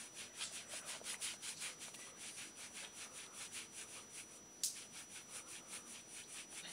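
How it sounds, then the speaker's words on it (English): A kabuki makeup brush is rubbed back and forth on the skin of a wrist, making quick rhythmic brushing strokes, close and soft, with one brief sharper contact near the end and no voices. "You rub this on my wrist and see what happens."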